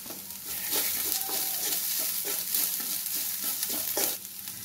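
Onions sautéing in a pan for Tamil egg rice, a steady close sizzle with repeated scraping stirs of a spatula, heard alone without any talk.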